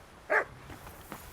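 A dog in the video game Kingdom Come Deliverance 2 gives one short, clear bark, followed by faint softer yips in a quiet scene.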